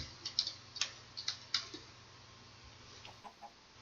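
Modded quartz chicken in Minecraft, clucking in a quick cluster of short, close clicky calls early on, then a few fainter clucks later over a low steady background hum.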